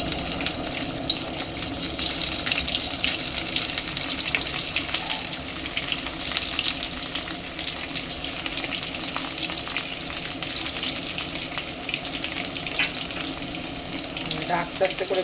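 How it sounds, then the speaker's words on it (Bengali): Stuffing for pointed gourds fries in oil in a home kitchen, a continuous soft sizzle with scattered crackles and faint clinks, steady and close for the whole stretch, moderately quiet. "এবারে পুরগুলো ভাজা হবে। মা তেল দিয়ে দিচ্ছে।"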